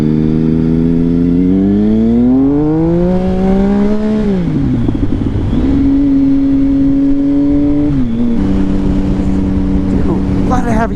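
A motorcycle on new tires rides along, its engine note rising and falling through gear changes, loud and close, with wind rush and a voice talking over it.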